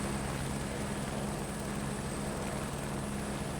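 In Microsoft Flight Simulator 2024, a helicopter's rotor and engine produce a continuous, dense droning roar with a steady whine, heard alone.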